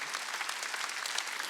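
A church congregation claps together during a Sunday worship service, a dense, steady burst of applause filling the space with no voices standing out.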